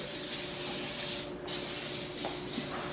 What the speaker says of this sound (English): I like to spray it a little bit.